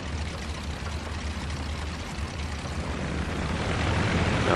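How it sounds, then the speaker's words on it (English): An R.E.8 biplane engine at full throttle on its takeoff run gives a steady, loud, close propeller roar that builds slightly in strength, heard from the cockpit with no talking. "So to take off, we will apply full throttle, the nose will start to come down, and then we'll lift off at approximately 60 miles per hour"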